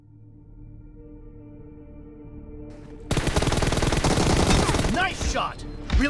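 Rapid automatic gunfire in a team deathmatch shooter game bursts in suddenly after a quiet musical intro, loud and dense with crackling rounds for a few seconds, briefly pausing before another short burst.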